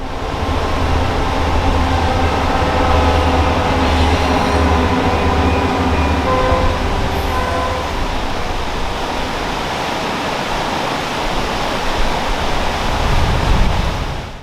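A luxury passenger train rolls along curving mountain track beside South Boulder Creek near Tolland, Colorado, on the Moffat Tunnel route, a steady loud rumble and clatter of wheels lasting throughout with no voices.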